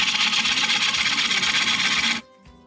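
A turning tool undercuts wood spinning on a lathe, giving a steady, close scraping hiss for about two seconds before it cuts off, leaving the lathe's quieter hum.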